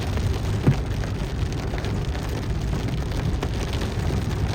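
Heavy rain pours down on the streets of Makkah in a dense, steady hiss of drops hitting the ground, loud and unbroken with no voices.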